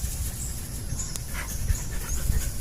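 Hunting dogs pant quietly and rhythmically nearby, with soft breathy huffs over a low rumbling background.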